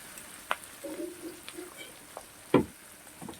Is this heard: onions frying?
yes